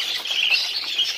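Texas budgerigar chicks squawk in a breeding aviary, giving a continuous, shrill, raspy chorus of cries close by, with no talk.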